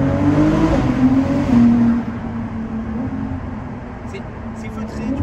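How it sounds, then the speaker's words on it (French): Ferrari 296 GTB engine heard from inside the car: a muffled, smooth low drone that swells briefly then settles to a steadier hum, with faint voices in the cabin. "on pourra un peu apprécier la sonorité un peu du moteur"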